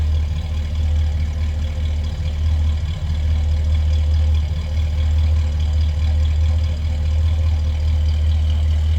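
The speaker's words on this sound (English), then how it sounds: "Nice little rumble coming out of that 289." A 1965 Ford Galaxie 500 convertible with a 289 V8 idles with a steady, deep low rumble, close and loud, continuous with no talking.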